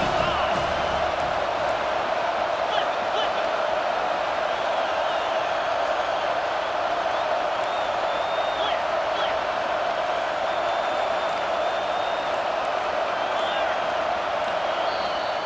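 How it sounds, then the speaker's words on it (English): Crowd noise in the EA Sports College Football 25 video game, with a dense, steady roar of a stadium crowd near the goal line filling the whole stretch at high level, without a break. "the crowd really making some noise now, trying to help out this defense to get this stop near the goal line"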